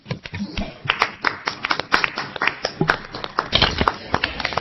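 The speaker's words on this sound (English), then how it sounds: "let's give applause to Prof. Irwanto and Ms. Ki." A crowd claps continuously for a few seconds, a dense patter of many hands applauding fairly close by.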